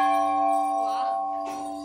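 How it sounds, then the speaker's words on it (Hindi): A bright metal temple bell at Kaichi Dham in Uttarakhand is struck once and rings with a long, sustained tone that slowly fades, heard close with faint background voices. "घंटी बजा रहे यार"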